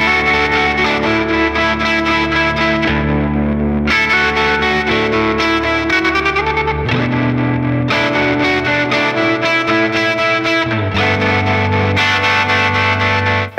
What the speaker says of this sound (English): The Parabola's unique sloshy waveform and inbuilt preamp section lets you create some of the most delicious and distorted dreamscapes I've ever heard.